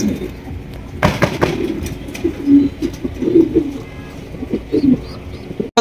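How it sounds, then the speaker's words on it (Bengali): A pair of large French Mondain pigeons at a breeding farm give soft, repeated low coos in short bursts, with several distinct calls across the stretch. Faint background voices and rustling sit underneath. "এখানে রয়েছে একজোড়া ফ্রান্স মুন্ডিয়ান কবুতর"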